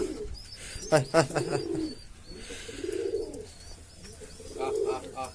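Pigeons let out of their breeding coops coo in soft, repeated phrases with brief wing flutters, fairly close, with scattered bird chirps over a quiet background.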